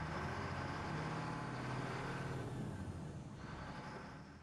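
A medium duty truck with an Eaton AutoShift six-speed transmission pulls away, its engine a dense, steady drone heard from inside the cab that eases off slightly toward the end.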